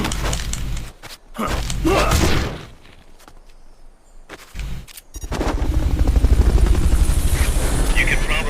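In the Metal Gear Solid Peace Walker video game, a Fulton Recovery helicopter thumps loudly amid gunfire and rumbling effects, with bursts of game noise, gaps of quiet, and a sustained rotor drone at the end.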